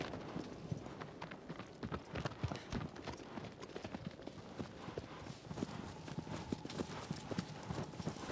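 Steady clip-clop of a horse galloping in Shadow of the Colossus, a continuous rapid hoof rhythm running the whole stretch, with faint voices in the background.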